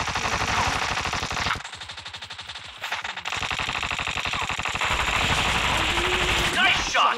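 Rapid automatic gunfire from the PUBG gun game mode fills the clip in loud, dense bursts, with a brief lull near the middle, and a voice talks over part of it.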